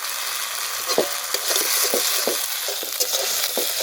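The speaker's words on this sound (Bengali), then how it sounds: "পেঁয়াজটা বেশ ভালো ভাজা হলো" Onions frying in a pan with ginger-garlic paste, a loud continuous sizzle broken by repeated spatula scrapes and stirs at an uneven rhythm.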